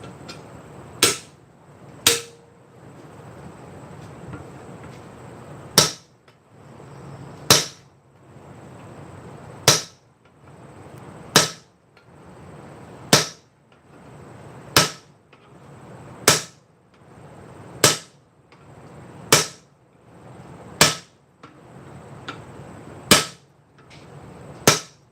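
Hammer blows on metal during blacksmith forging ring out as about a dozen loud, sharp strikes at a fairly steady slow rhythm, with a low hum of shop noise between them.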